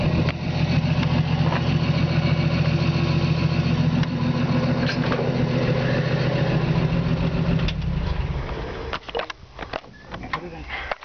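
A 1953 Chevy 5-window pickup truck idles with a loud, steady, rumbling exhaust throughout, then the engine note drops and fades toward the end, leaving quieter knocks and clatter.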